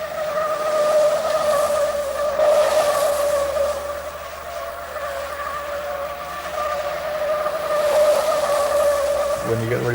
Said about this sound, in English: When you get ready to go through some corners and get out and really drive it